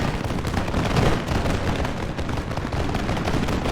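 Massed musket volleys from line infantry in the video game Total War: Empire, during a battle at Amsterdam, merge into a dense, continuous roar of crackling gunfire and rumbling blasts with no pauses.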